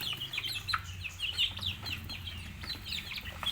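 Chickens in a poultry pen cluck and chirp busily, a quiet, continuous overlapping chatter of many birds at close range.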